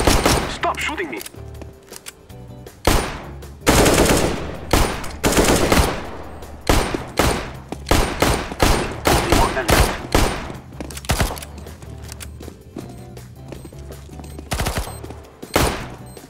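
Rapid bursts of Glock 18 gunfire in a shooter video game, loud sharp shot volleys and scattered single pops over about sixteen seconds, with voices and other game sounds between bursts.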